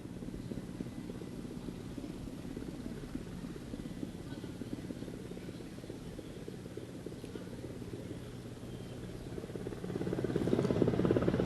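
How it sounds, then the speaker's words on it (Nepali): Military helicopters approaching a parade ground from the east during a ceremonial flypast with flower showers, a low distant rotor drone that swells louder toward the end. "श्री सैनिक हवाई महानिर्देशनालयका यी दुईवटा हेलिकप्टरहरू बिस्तारै मैदानतर्फ पूर्वी दिशाबाट आउँदै गरेको हामीले देखेका छौं"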